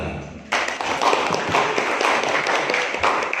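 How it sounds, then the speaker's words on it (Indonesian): Audience clapping at a Karang Taruna youth organisation gathering in Mojokerto, Indonesia, starting abruptly and continuing as a dense, steady patter of many hands at moderate distance, with no speech over it. "Tepuk tangan."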